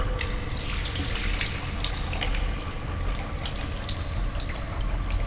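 Water runs steadily into a clogged sink in the sci-fi horror game Stasis: a continuous, fairly loud faucet stream splashing into standing water, with no talking.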